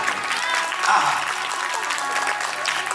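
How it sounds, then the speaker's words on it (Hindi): Audience clapping steadily throughout at an event honouring someone who played with the children, dense broadband applause filling the whole stretch with a faint voice underneath. "एक बार लक्की भैया के लिए ताली बजा दीजिए"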